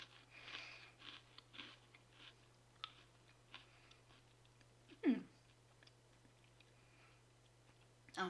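Crunchy snack from a 2021 American MRE ration being chewed, a series of soft crisp bites spaced across several seconds with one louder crunch near the end, close and quiet over a steady low hum.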